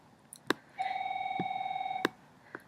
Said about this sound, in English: My phone's ringing, just a second.